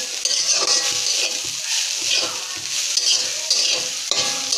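Mustard greens stir-fried in a pan over medium heat, a continuous close sizzle broken by repeated scraping strokes of the spatula at an uneven rhythm.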